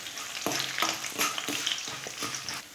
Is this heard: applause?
no